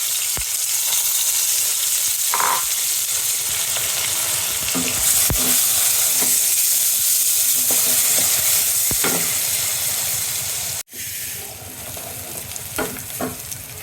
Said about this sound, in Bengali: তেল গরম হয়ে গেছে, তেল দিয়ে দিচ্ছি, সাথে এক বাটি পেঁয়াজ দিয়ে দেবো, দারচিনি, এলাচি